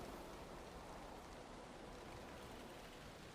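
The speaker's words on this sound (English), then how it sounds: "It's also raining." Nighttime rain falls in the video game Valheim as a faint, even, unbroken hiss with no voices over it.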